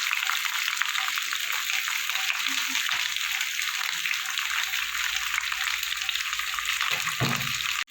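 Prawns cook in a hot pan with raw mustard oil, giving a loud, continuous, close-up sizzle that holds steady the whole time, with a soft low clatter just before it stops.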